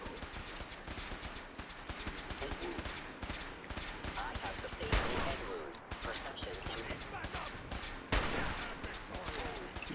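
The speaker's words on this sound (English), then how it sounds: "We're just getting lasers and everything going off right now." Laser gunfire in Fallout 4 survival mode on a downed airship, rapid overlapping bursts of shots crackling throughout with a few louder sharp cracks, mixed with distant battle noise.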